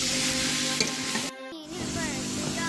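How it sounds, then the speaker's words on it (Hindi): Chicken pieces and chopped capsicum fry in a pan for a homemade pizza topping, giving a steady close sizzle with a soft stirring scrape, alone and with no talk, under a faint tonal hum. "अब मैं इसके अंदर शिमला मिर्च ऐड कर दूंगी और शिमला मिर्च ऐड करने के बाद हम इसे अच्छे से भून लेंगे।"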